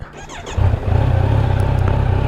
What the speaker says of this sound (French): Le 4 cylindres là, il ronronne bien.